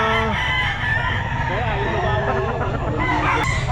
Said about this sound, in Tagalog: Dalawa kasi manok na yan.